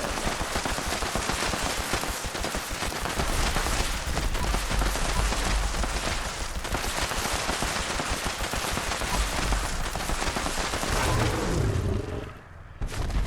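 V63 laser carbine in Fallout 76 firing nonstop at a behemoth, a loud, dense rapid stream of crackling zaps and impacts lasting several seconds, cutting off near the end.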